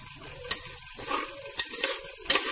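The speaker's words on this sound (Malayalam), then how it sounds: "നല്ലോണം ഇളക്കി യോജിപ്പിച്ചു കൊടുക്കണം." Fish biryani is stirred in a pot after boiling water is poured in, with several sharp scraping strokes over a soft bubbling sizzle.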